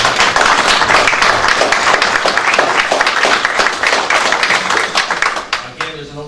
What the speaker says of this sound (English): Let us give them a big round of applause for a job.